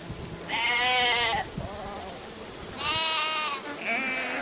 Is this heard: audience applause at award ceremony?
no